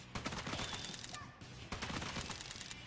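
Fast, repeated gunshots ring out in Raidou Remastered, a dense rattling volley with a short break before the firing resumes.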